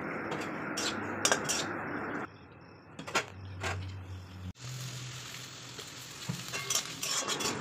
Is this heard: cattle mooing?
no